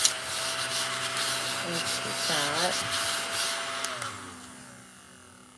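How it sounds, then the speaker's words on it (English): A small battery-powered desk vacuum runs with a steady motor whine and airy rush for several seconds, its pitch wobbling briefly midway as it sucks at the desk, then spinning down to near silence; a voice speaks briefly over it. "I'm gonna get my handy dandy desk vacuum"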